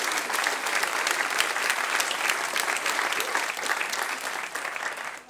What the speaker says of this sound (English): So yes, applause.